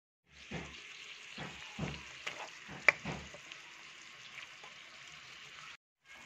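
Chicken liver and gizzards hit a hot pan with ginger and crackle into a steady sizzle, with a few bursts of stirring and sharp pops over about five seconds before it briefly cuts out.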